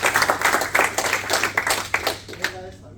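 An audience at a lounge event gives a quick round of applause, with dense clapping over about three seconds that tapers off near the end.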